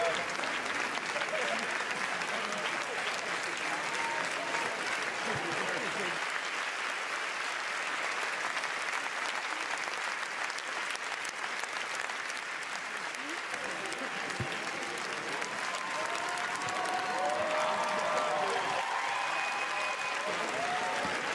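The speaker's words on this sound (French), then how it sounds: "je vais vous laisser écouter l'ovation du public pour Nadine Labaki, Zayn Al-Rafia et toute l'équipe de Capharnaüm" Sustained applause and cheering from a large audience at a Cannes Film Festival screening honoring Nadine Labaki and the Capharnaüm team, dense steady clapping throughout with voices and shouts rising in the crowd.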